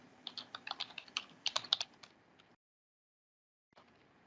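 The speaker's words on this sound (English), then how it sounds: "Well, sorry for my typing." Quick tapping on a computer keyboard in an online class setting, a burst of irregular clicking keystrokes for a couple of seconds, then a pause and a few more keys, close and clear without talk.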